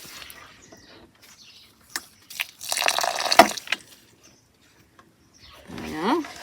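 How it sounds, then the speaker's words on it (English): In a shaded cottage cut-flower garden, water is poured into a bowl in a brief splashing gush, with a few scattered clicks and rustles before and a softer wet sound afterward. "we'll still nonetheless just pop a little bit of water in our bowl"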